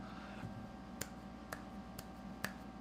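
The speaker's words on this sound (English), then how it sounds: "How do you middle finger snap?" Finger snaps, four sharp isolated clicks spaced about half a second apart, close and fairly quiet over a faint steady room hum, with no talking.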